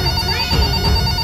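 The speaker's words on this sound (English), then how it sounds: "A banana phone?" A toy banana phone rings in a short, steady burst of electronic bell-like trilling, fairly loud and continuous, with no talking over it.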